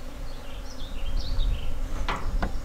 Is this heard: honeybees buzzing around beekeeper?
yes